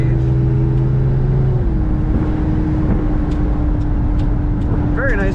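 A 1964 Chrysler 300K convertible's engine runs at a steady, loud idle, a constant low rumble that holds without revving throughout.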